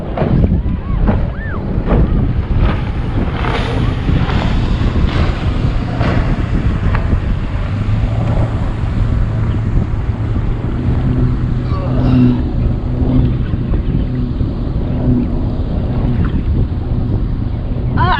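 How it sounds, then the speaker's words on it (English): A bass boat motor runs past nearby on Chickamauga Lake, heard from a kayak, a low steady drone under constant wind buffeting and water noise. "I had to focus on that bass motor and make sure he wasn't gonna run over my farboard"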